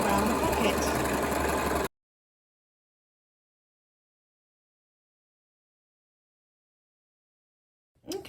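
A sewing machine runs a zigzag stitch along a fabric edge while a dress is being made, a steady close mechanical whir lasting about two seconds before cutting off into silence.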